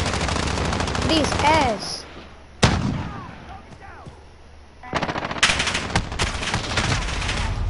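Automatic gunfire in a shooter video game: loud rapid bursts of machine-gun fire, a sharp single shot, then more clattering volleys, with a voice briefly speaking.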